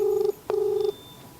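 Faint electronic ring tones of an outgoing telephone call, two steady beeps with a brief gap, heard over a quiet background hiss.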